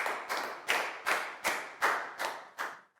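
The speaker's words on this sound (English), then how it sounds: "a big round of applause for Dan" A classroom of Year 4 pupils claps for a student named Dan, about eight distinct, evenly spaced claps in a steady rhythm, fairly close and moderately loud, with no talking.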